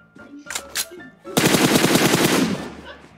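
Gunfire in a video game: a couple of quick shots, then a sustained loud burst of rapid automatic fire lasting over a second, close and dominant.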